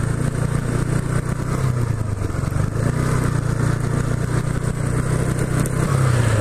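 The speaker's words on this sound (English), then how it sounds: "Speed bump." A motorcycle rides along and goes over a speed bump: a steady, loud engine drone with wind rush, and a brief dip and clatter partway through as the bike rolls over the bump.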